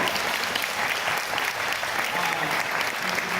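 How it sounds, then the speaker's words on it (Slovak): A large audience claps in a massive, continuous round of applause for the event's speakers, a dense even wash of hand claps throughout. "So massive round of applause to all the speakers"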